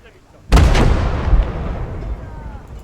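A mortar fires in the war game Blood Red Snow, one sharp loud boom that rolls into a long fading rumble, with voices faintly beneath.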